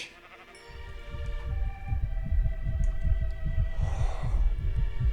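In a Minecraft-style video game, a sheep bleats once against a steady low throbbing hum and pulsing beat, and the bleat sits briefly above the ongoing rumble.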